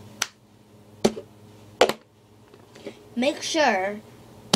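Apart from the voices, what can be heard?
hitting a cup and clapping in a cup song rhythm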